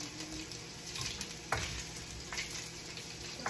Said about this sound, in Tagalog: Maprito-prito ng konti aking pahang.